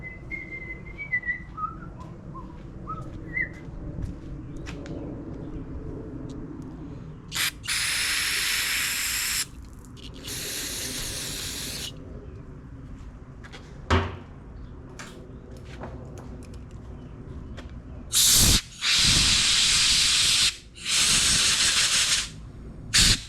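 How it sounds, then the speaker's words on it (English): Carburetor cleaner sprays through a part of a Honda GX200 engine on a pressure washer in several loud, close hissing bursts of a few seconds each, separated by quieter pauses and small clicks. "my can of carburetor cleaner here and we'll spray some of that through there."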